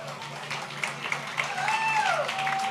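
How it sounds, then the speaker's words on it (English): Graduation audience at the Brooklyn School for Math and Research 2022 ceremony applauds the class: continuous crowd clapping with scattered whoops and whistles rising over it, with voices mixed in. "A huge round of applause I present to you,"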